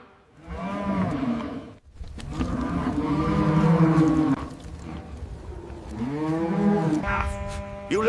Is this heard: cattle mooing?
yes